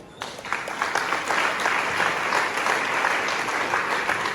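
Sustained applause from an audience at a career guidance event in Ghana, dense and steady throughout with no voices standing out.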